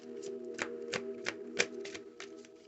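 A deck of tarot cards is shuffled by hand, crisp riffling bursts repeating at a steady rhythm, close and clear over a faint constant hum.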